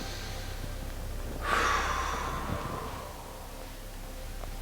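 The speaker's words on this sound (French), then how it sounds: "ça me fait respirer" A single close, breathy rush of air swells and fades over about a second during a slow movement exercise, surrounded by quiet room tone with no talking.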